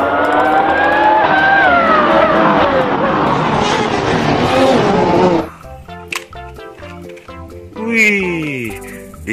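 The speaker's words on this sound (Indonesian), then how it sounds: "Wah, mobil balap F1 teman-teman." Toy F1 race car sound effect, a loud whining engine tone that climbs and wavers for several seconds, then gives way to short electronic tones and a falling siren-like sweep.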